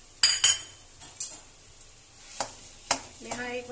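Scraping, clinking stirring of jaggery melting into syrup in a pan: a few sharp metallic scrapes early, then softer intermittent strokes, with faint sizzling underneath.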